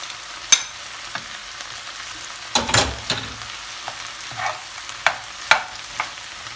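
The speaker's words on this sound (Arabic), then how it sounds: "راح أضيف آخر شي البوتيتو." Potatoes sizzle and fry in a pan with tomatoes and peppers, a soft steady crackle broken now and then by scraping stirs and clinks of a utensil. No one speaks.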